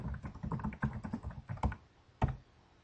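Quick bursts of keystrokes on a computer keyboard while a legal full name is entered into an online form, close and clear, ending in a couple of sharper isolated key presses with no talking.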